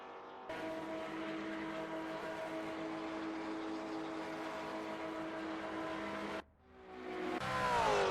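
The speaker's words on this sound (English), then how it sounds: "What was with the engine sound there?" A race car engine in Gran Turismo 4 at the Barcelona circuit drones at steady high revs, cuts out briefly, then climbs loudly as it revs back up in a rising whine, with no talking.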